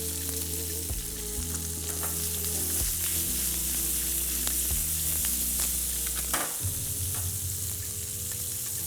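Chicken wings sizzle and fry steadily in a pan, a dense continuous crackle with intermittent louder pops and spatters and a low hum underneath, close and fairly loud with no talking.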